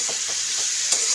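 Raw tomatoes fry with onions in a pan, a loud, steady close-up sizzle with a few soft stirring scrapes throughout.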